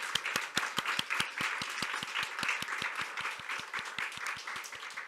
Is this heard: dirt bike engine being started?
no